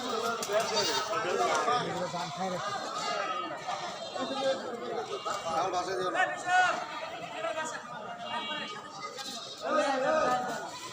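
Goats bleating at a crowded goat market in Mirzapur bazaar, Gazipur, scattered calls mixed into steady chatter of people talking nearby throughout.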